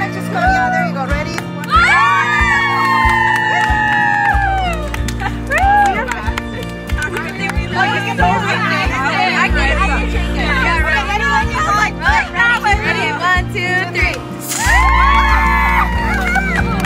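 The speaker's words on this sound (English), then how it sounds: "We're just gonna cheer." Wedding guests cheer and whoop together at a reality TV wedding, a loud mix of raised voices and high shouts that swell and dip without a break for about seventeen seconds.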